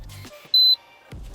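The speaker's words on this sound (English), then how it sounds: "Gas detector," A gas detector inside a mid-wheelbase off-grid campervan gives a single short, loud electronic beep lasting about a quarter second, standing out against quiet room tone.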